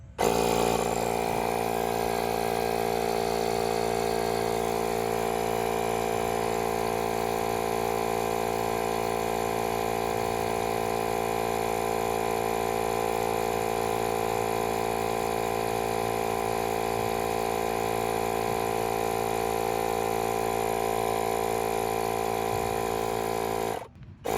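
A Milwaukee cordless air compressor runs continuously at a steady, loud, droning whine with a constant pitch for the full length, cutting off abruptly at the end, with no talking.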